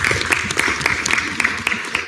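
Steady applause from a student government senate gathering, dense and continuous across the short stretch, with some brisk individual claps standing out near the front.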